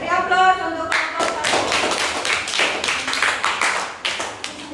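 Classroom applause for a student group, a burst of many hands clapping close by that follows a spoken voice and keeps going steadily for several seconds.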